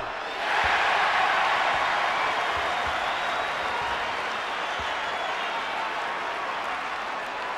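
A basketball arena crowd at a college game between UConn and St. John's erupts into sustained applause and cheering, a dense roar of clapping that swells quickly and holds steady.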